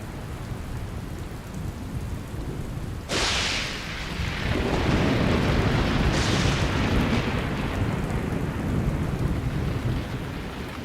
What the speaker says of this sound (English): The relentless rain gradually begins to fill the pans.